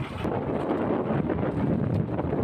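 Steady, loud rushing noise with a low rumble throughout, like a fishing boat engine at sea mixed with wind buffeting the microphone.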